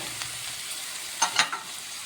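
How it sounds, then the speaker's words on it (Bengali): Spices with cumin, coriander and turmeric powder sizzle with potatoes in a pan as they are stirred. A soft, steady frying hiss runs throughout, broken by a couple of brief scraping stir sounds near the middle. "ভালো করে এখন কষাবো আলুর সঙ্গে মশলাটা"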